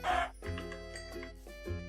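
A chicken in the Minecraft video game gives a few short clucks in quick succession, clear and close, with no one talking over it.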